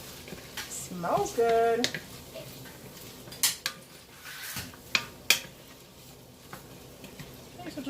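A spoon scrapes and clinks against a pot of cooking vegetables for chicken noodle soup, with soft sizzling underneath and scattered sharp metallic knocks close by; a voice briefly speaks.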